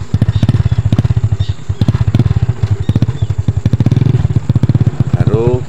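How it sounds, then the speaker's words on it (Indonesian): A motorcycle used for hauling palm fruit on a plantation idles and putters nearby with a steady rapid thumping, loud and close, with some clatter around it. "langsung motor dihidupkan."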